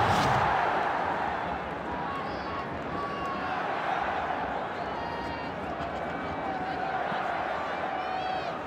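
A stadium crowd in Dream League Soccer 2017 roaring after a goal, a dense steady wash of cheering that starts loudest and settles into a sustained roar beneath a commentator talking.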